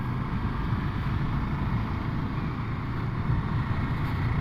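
Ducati Scrambler Desert Sled with a Termignoni exhaust, a deep bassy engine drone heard while riding, recorded close to the exhaust with steady rumble and wind buffeting.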